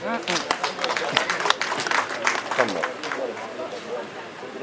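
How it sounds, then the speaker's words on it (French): Applause from guests at a wedding conference swells into a burst of scattered clapping and crowd noise, mixed with overlapping voices and chatter, then fades. "Cela mérite un applaudissement."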